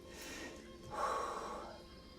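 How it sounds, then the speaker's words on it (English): One audible inhale, a deep in-breath taken during a yoga exercise, rising close and soft before fading, with no words spoken. "Okay, here we go. Inhale."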